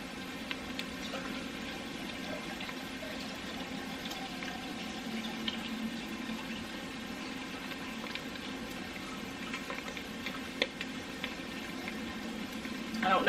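Water is poured into a pot of browned beef, producing a faint, steady splashing and bubbling hiss with soft patter that continues at low level throughout, swelling slightly at the very end.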